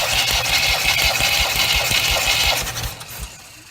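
A 1977 MGB four-cylinder engine spun over by a remote starter during a compression test gives a steady, loud, rhythmic cranking chug with a whirring buzz above, which stops toward the end.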